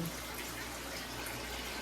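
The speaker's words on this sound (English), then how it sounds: "I'm just going to put a little bit of the water in here to start with" Water pours steadily into a canning pot for home-canning pineapple, a continuous close rushing splash with no break and no talking over it.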